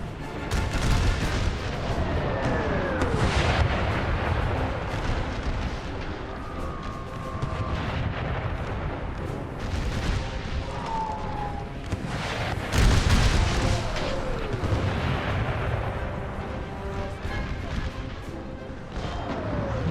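Artillery cannon fire in an American Civil War video game booms continuously under a dense, rumbling battle din, with sharper blasts breaking through and shells whistling overhead.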